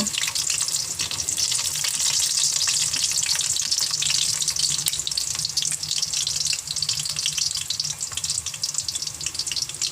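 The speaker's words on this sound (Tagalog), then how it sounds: "ating i-fry yung ating kikiam" Kikiam fish balls frying in hot oil in a pan, a dense, loud, continuous crackling sizzle that holds steady throughout with no talk.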